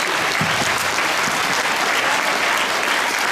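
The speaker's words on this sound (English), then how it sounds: "how about a really loud South School round of applause for these veterans?" A school audience of children gives veterans a loud, dense round of applause, continuous close clapping with no pause from start to finish.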